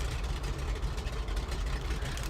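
The engine of a Grumman G-21 Goose in the Flight Simulator X game drones loudly and continuously during descent, a rough, rickety rumble with no break.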